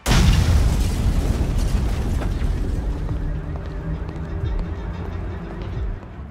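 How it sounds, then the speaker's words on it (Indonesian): A deep, heavy grenade blast booms at the start as a house blows up, followed by a long rumbling roar of debris and fire that slowly fades, with a voice speaking over it. "teman Jerry lalu melemparkan granat ke arahnya dan rumah Max pun meledak."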